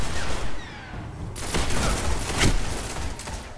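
Shotgun blasts in the video game Destiny, a couple of heavy booming shots amid loud, dense gunfire and battle noise, close and forceful with no talking.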